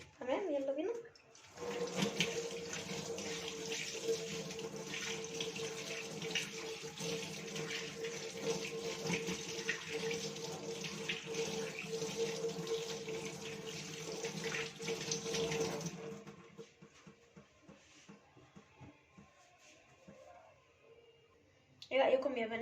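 Running tap water rinses a surface after cleaning, a steady close rush of water that stops near the end, with someone talking at times.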